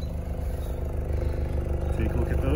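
Exhaust of a 2022 Mazda CX-5 idling close by, a steady low rumble with a throbbing pulse, and someone talking briefly over it near the end.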